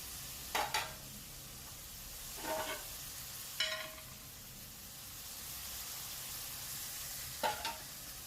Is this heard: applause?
no